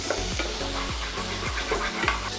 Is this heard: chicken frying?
yes